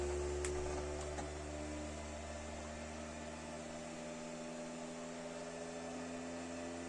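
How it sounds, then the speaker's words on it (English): An Anycubic Kobra 3 3D printer running its resonance detection routine, a steady mechanical hum and whir with a few brief clicks near the start, continuous and moderately quiet throughout. "Detecting the resonance, please do not touch the printer."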